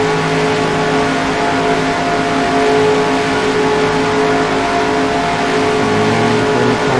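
Race car engines in NASCAR Racing 2003 roar loudly and steadily at the green-flag start at Indianapolis Motor Speedway, a dense layered drone of many cars revving together with no voices.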